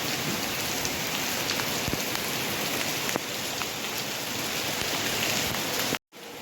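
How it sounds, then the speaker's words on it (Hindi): Heavy rain pours steadily outdoors, a dense continuous hiss of drops on surfaces with a few louder individual splashes, cutting off briefly near the end. "बहुत तेज़ बारिश हो रही है।"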